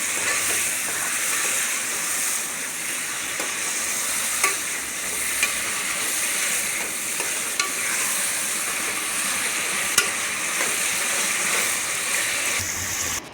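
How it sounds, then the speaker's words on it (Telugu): Mutton pieces cooking in oil with tomato, a loud, steady hiss of frying fills every moment, broken by faint ticks and scrapes from stirring. "ఈ మటన్ ముక్కలు కొద్దిసేపు ఆయిల్లోనే ఉడకనివ్వాలి."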